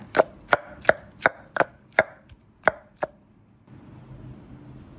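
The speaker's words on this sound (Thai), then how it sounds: "ตำให้มนให้ละเอียดก่อนจ้า" Ingredients pounded fine in a mortar for Isan-style jackfruit sup, eight sharp, evenly spaced pestle thuds in quick rhythm, close and loud, followed by a quiet lull.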